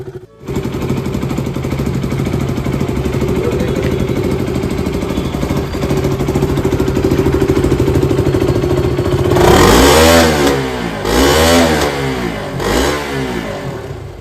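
A KTM RC 200 motorcycle idles loud and close with a fast, even pulse, then revs up in three sharp bursts that rise and fall back toward idle.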